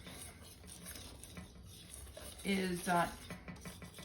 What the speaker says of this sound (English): We're gonna mix it together